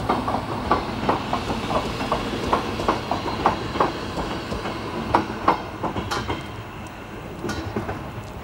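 A train rolls past on rails with a continuous rumble and a rhythmic clickety-clack of wheels over the joints, loud and close, with a light hiss and no talking.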